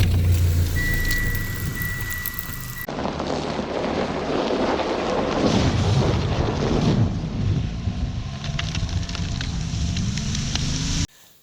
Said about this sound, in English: I see rear tire spinning.